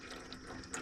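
Used engine oil drains steadily from a Cub Cadet 2554 garden tractor, a soft continuous trickling pour with faint splashy detail, close by and alone.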